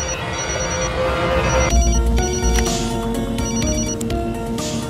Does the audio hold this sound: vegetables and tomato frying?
no